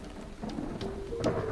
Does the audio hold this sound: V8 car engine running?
no